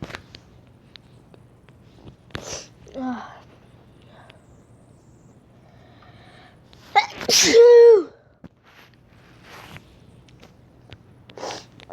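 One loud, close human sneeze in the middle of a mostly quiet stretch, set off by a quick breath in and surrounded by small faint sniffs and rustles.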